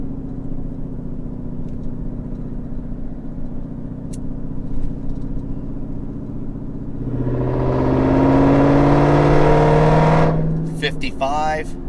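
Jeep Grand Cherokee SRT Trackhawk engine pulling hard toward highway speed, a steady cabin drone rising into a loud climbing roar with a whining tone, then easing off at the end.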